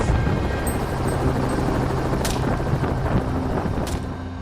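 A helicopter drones steadily throughout during a night wild boar hunt over farmland, a dense low rumble with a faint whine on top, loud and continuous with no talking.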